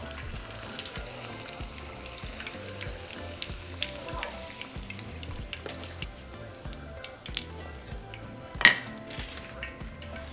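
Stuffed potato tortitas frying in oil, a steady low sizzle and crackle beneath frequent clinks of utensils and pans, with one sharp metallic clatter near the end; no talking.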